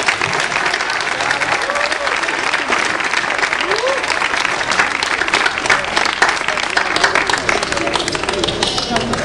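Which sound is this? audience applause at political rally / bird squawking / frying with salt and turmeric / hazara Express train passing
audience applause at political rally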